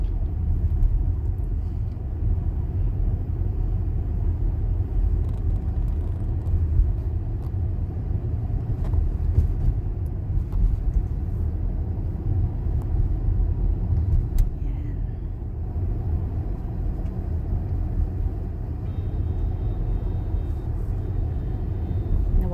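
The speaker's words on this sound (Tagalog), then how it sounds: "Guys, grabe ang traffic all the way" Steady low road traffic rumble on a snowy, -20 °C day in Edmonton, cars and engines droning continuously at mid distance with no talk over it.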